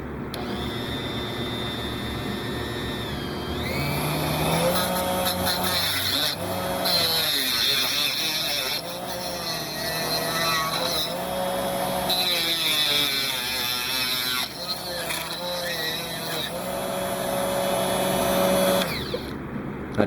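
A Dremel rotary tool set in a stand trims a model engine part with a continuous high whine. The pitch dips and rises as it bites into the material, and it runs close and loud for about twenty seconds.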